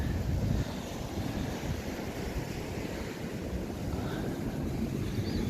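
Sea waves rolling in at Clacton-on-Sea on a choppy evening, a continuous broad wash of surf with wind buffeting the microphone, no voices.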